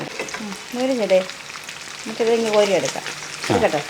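Sardine pieces frying in oil in a pan for pickle, a soft crackling sizzle beneath a voice speaking in short bursts.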